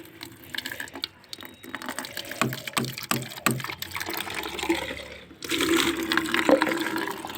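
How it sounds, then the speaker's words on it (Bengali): Tap water runs on a rooftop to water sun-dried plants, a steady splashing rush that grows louder and fuller for the last couple of seconds. "তো চলো জলটা ছেড়ে দিই"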